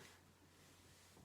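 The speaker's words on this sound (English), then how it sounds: "That's my cat, Lincoln" A house cat gives a short, sudden meow right at the end, loud and close after a stretch of quiet room hum.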